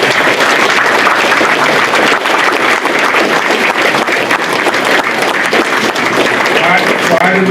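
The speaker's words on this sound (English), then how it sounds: "And I'd like you to give them a round of applause and thank them." Parents and guests at a school scholarship and awards night give sustained, dense applause that stays loud and even throughout, with some voices mixed in.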